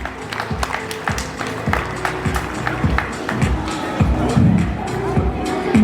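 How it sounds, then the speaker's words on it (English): A school audience at a sports day celebration applauds with dense clapping mixed with crowd noise and chatter, continuous and fairly loud. "Give a big round of applause."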